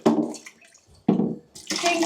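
A cup scoops the remaining water out of a toilet bowl in two or three quick, close splashy slurps of water, with short pauses between them.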